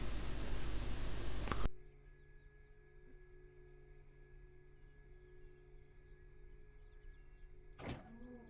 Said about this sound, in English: Maybe I'll remember to close my canopy on takeoff this time.